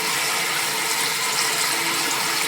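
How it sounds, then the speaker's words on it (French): Water runs into bathroom plumbing during a renovation, with a broken water supply tap; a steady, loud hiss of flowing water fills the whole stretch with no break. "j'entends que ça se remplit. Effectivement, on voit qu'il y a de l'eau qui arrive."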